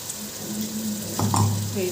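Ginger garlic paste fries in a pan for coconut biryani, giving a soft steady sizzle with a brief louder burst of spattering near the end.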